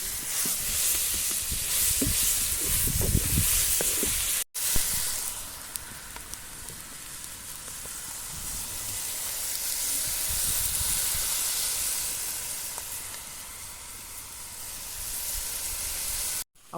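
Onions and tomatoes fry in a pan for a Kerala-style chicken parts curry, a steady, soft sizzle and hiss throughout with a brief break partway through.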